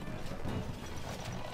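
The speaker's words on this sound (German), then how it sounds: "Die Pferde sind gesattelt." Horses in the medieval strategy game Stronghold Crusader, hooves clip-clopping in a steady trotting rhythm at moderate volume over a continuous background game ambience.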